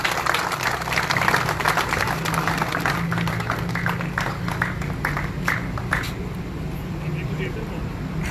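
An audience at a pigeon-flying awards gathering breaks into applause, a steady patter of many hands clapping, moderately loud and continuous.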